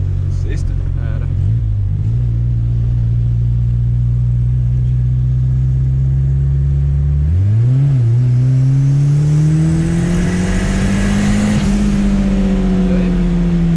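A Chevrolet Chevette engine revs up close and loud, its pitch climbing in steps as it accelerates, settling, then rising again to a sustained higher drone, with a steady low rumble throughout.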